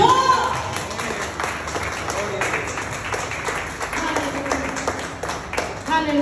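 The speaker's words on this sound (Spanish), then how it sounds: "dale un aplauso al Señor" A church congregation claps together in a steady, fairly busy patter through a worship service, with voices singing and speaking over the applause throughout.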